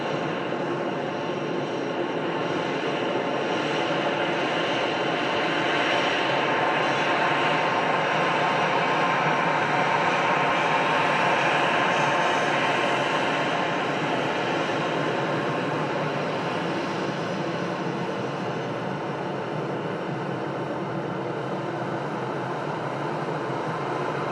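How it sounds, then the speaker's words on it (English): An EasyJet airliner arriving from Belfast at Manchester Airport gives a steady, sustained jet roar that swells slightly in the middle and holds loud throughout, with no talk over it. "this EasyJet arriving in from Belfast"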